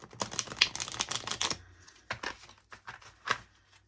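A Tarot Classic card deck being shuffled makes a close, rapid burst of crisp riffling clicks, followed by a few scattered separate taps and flicks.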